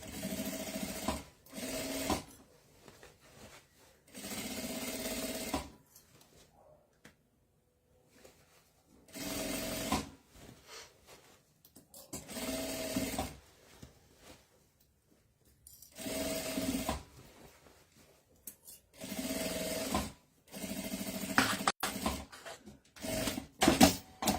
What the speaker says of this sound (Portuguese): Aí você vai costurando, vai desentortando a bolsa assim.